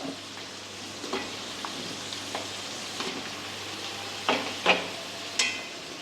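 Cut potatoes fry in a pan with a steady close sizzle, cooked for a Bengali chicken milk pulao or khichdi. Now and then a utensil stirs and scrapes against the pan, and no one speaks.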